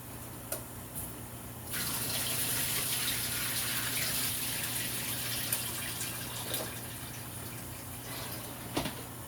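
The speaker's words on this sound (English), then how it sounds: "I just have to drain my water." Water pours and gushes steadily into a sink as a pot of boiling water is drained, a continuous rushing stream with a few clinks near the end.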